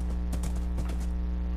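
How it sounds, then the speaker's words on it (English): Horse hooves clip-clop in Minecraft survival as several quick, even hoof steps sound at close range over a steady low game hum, with no talking. "Get horse across."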